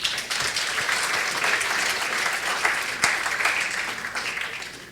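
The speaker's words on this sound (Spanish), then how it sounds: "Un aplauso al Señor, hermanos." Congregation applauding during a church sermon, a sustained wash of many clapping hands at a steady level for several seconds, with no voices standing out.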